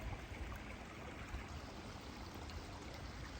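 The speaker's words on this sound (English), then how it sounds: "The water is flowing through some spots on the beaver dam." Water trickling through gaps in a beaver dam along a wooded creek in a park, a steady faint burble without break or voices.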